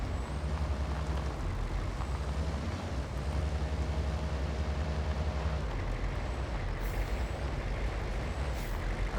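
A vehicle drives steadily in the hunting video game Way of the Hunter, its continuous engine drone and rumble filling the whole stretch at a constant loud level, with brief higher whines near the end and no speech.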